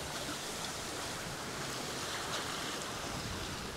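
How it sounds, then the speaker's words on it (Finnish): Waves wash against a sailboat at sea off Kökar, steady broadband rushing surf with wind noise over the microphone, continuous and fairly close throughout, no voices. "Mutta se tulee sivusta se aalto"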